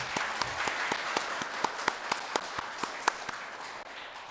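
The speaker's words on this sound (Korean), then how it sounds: "다시 한번 축하의 박수 부탁드립니다." A church congregation at an Easter Sunday service claps, the sharp individual claps steady and fairly even, heard at a modest distance in a room.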